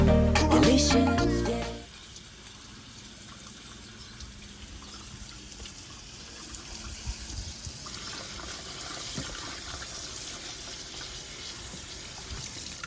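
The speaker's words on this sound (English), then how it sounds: "I'm going to cut a few sprigs here, give it a wash" Fresh mint sprigs are rinsed under a running tap, a steady, moderately quiet stream of water splashing in a sink after a brief burst of music at the start.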